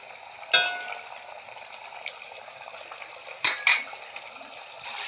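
A pan of homemade rohu fish curry boils with a steady bubbling hiss, broken by a few loud utensil clanks against the pan.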